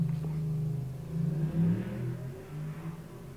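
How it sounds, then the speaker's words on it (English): A motorbike engine rumbles and revs briefly nearby outdoors, a low throaty drone that swells once and settles back, with no talking. "Excuse the motorbike."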